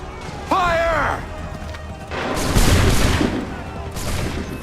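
Musket volley gunfire in Assassin's Creed III, loud booming bursts and crackling shots in a battle, with a shouted voice and crowd commotion over the fire.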